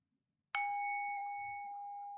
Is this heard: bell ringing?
yes